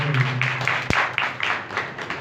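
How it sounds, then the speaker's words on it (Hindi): A congregation claps loudly in praise of God at a Pakistani Christian worship service, producing a steady wash of hand claps with rhythmic surges and one sharp knock partway through, and no talking. "जोरदार तालियां खुदा के नाम के"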